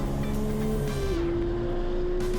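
Race car at Laguna Seca under hard throttle, a loud, steady engine drone near the microphone that climbs in pitch around the midpoint, then holds high and sustained to the end.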